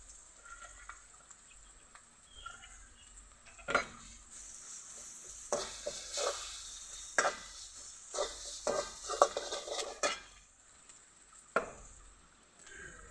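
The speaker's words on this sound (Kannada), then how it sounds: "ಎಣ್ಣೆ ಒಳಗೆ ಖಾರ ಹಾಕೋಬೇಕು" Chilli powder stirred into hot oil in a pan while cooking a green toor dal stir-fry, giving a soft steady sizzle punctuated by irregular scraping and tapping of a spoon against the pot, close by with no talk.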